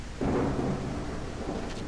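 Rain and a low rolling thunder rumble from the video game Quarantine Zone swell up suddenly and then linger under a steady patter of rain.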